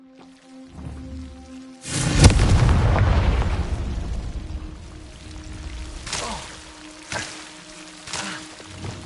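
A Confringo blasting spell in Hogwarts Legacy explodes with a sudden loud boom after a quiet moment, trailing into a crackling, rumbling decay, followed by a few sharper smaller bursts.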